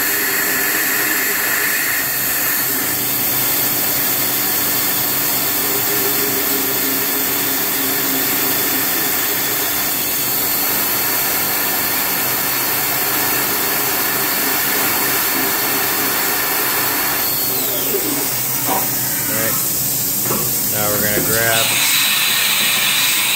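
A HAAS TM2P CNC mill circle-interpolates holes with a 1/8 inch fork flute end mill, giving a steady whirring machine drone with coolant or air hiss, loud and continuous, with a brief change in tone near the end.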